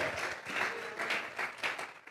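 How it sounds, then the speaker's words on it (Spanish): Church congregation clapping together as an offering of praise to God, a soft, steady patter of many hands swelling and dipping in waves, moderately distant. "Vamos a regalarle ofrenda de palmas al Dios de la gloria."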